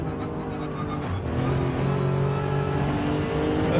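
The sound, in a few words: race car downshifting in Gran Turismo 7 video game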